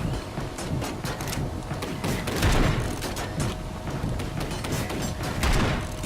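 Turrets fire in the video game Bunker Punks, a dense, continuous stream of rapid gunfire shots and crackling impacts at moderate volume with no pauses.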